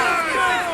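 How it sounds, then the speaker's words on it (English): Stadium crowd roar in a Madden NFL football video game, a loud continuous wash of cheering as the offense sits near the goal line in the red zone. "This crowd is making it tough down deep in the red zone."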